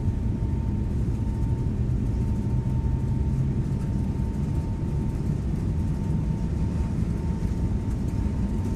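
Lufthansa Airbus A321neo engines spool at takeoff thrust in the X-Plane 12 simulator, a steady, loud, dense roar with a faint constant tone held evenly throughout, no voices present.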